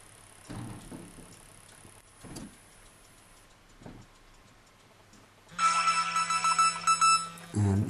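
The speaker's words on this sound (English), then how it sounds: "And that's the message received by the phone with the Freedom Personal Safety installed on it." SMS message alert on a Windows Mobile Pocket PC phone: after a few quiet taps, a loud, close electronic tone sequence rings out in pulsing bursts and stops abruptly near the end.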